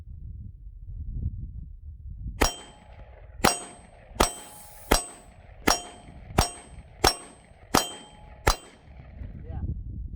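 Shots fired one after another on a range at a target while sighting in a pistol fitted with an Olight Baldr Mini green laser weapon light: eight sharp, ringing cracks at a steady pace, loud and close, with quiet between them and no talk.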